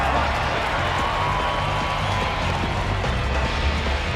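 Home crowd in a baseball stadium at PNC Park in Pittsburgh, in the video game MLB 14 The Show: a dense, continuous crowd murmur with scattered claps and cheers beneath it.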